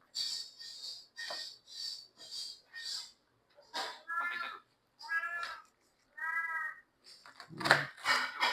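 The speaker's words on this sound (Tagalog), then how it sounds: "Nag-iingay na naman guys yung pusa ko." A pet cat meows repeatedly in a home kitchen, a string of short, fairly close calls with brief gaps, ending in a louder burst of clatter.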